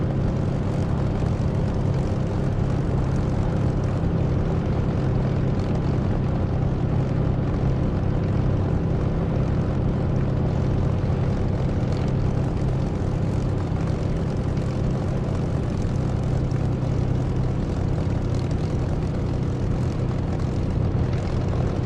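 Steady propeller aircraft engine idling while holding at the end of a runway in the flight simulator DCS, a continuous loud drone with no talk.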